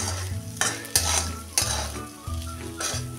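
Steamed potatoes with chili powder are stir-fried in a pan for sabudana khichdi, with a loud steady sizzle broken by several sharp spatula scrapes at an irregular pace, with no talking.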